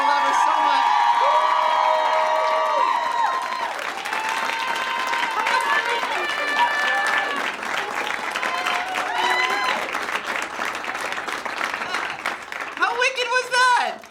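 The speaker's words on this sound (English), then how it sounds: "Let's have a round of applause for Janet" An audience at a live comedy show bursts into loud, sustained applause with cheering and whoops, the clapping thinning out into scattered claps near the end.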